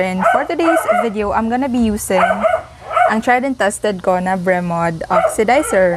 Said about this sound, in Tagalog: wag nyo na sanang i-mind yung ingay ng aso namin kasi ewan ko what's wrong with him.